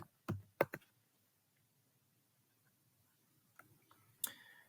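Typing on a computer keyboard: a few quick, faint clicks near the start, then a quiet pause, then scattered light keystrokes ending in a sharper tap, with no talking.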